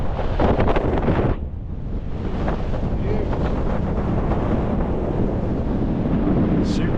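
Strong wind roars and buffets across the microphone on an exposed hilltop near Skiddaw in the Lake District, loud and continuous with gusty surges throughout and a brief dip early on.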